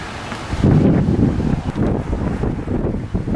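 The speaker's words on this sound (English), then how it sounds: "A little windy today, but it's beautiful out." Strong wind buffets the microphone in heavy rumbling gusts, loud and close, with no voices.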